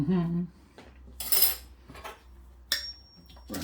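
Chili being spooned onto jacket potatoes in a pan, heard as a few separate metallic clinks and scrapes of a spoon against cookware, close and fairly quiet.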